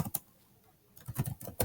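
Computer keyboard keys clatter in two short bursts of typing, a quick flurry at the start and a longer run near the end, with a near-silent pause between.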